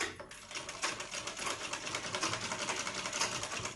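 A sewing machine runs steadily while stitching pleats on a long dress being made from an old hand-worked saree, with rapid, even needle clatter and a continuous motor hum close by, no voices.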